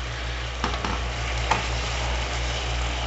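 Besan masala for pitod ki sabzi roasts in a pan while being stirred and pressed with a spoon, giving a steady close sizzle over a low hum, with a couple of soft scraping taps.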